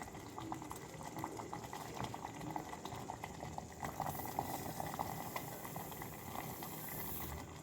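A pot of vermicelli (semiya) payasam with sugar bubbles and simmers at a steady, soft boil, a continuous low burbling hiss with no voices.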